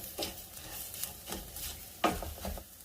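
Fresh onion sautéing in a hot pan, a quiet sizzle broken by a few soft scraping stirs and light clinks of a utensil against the pan.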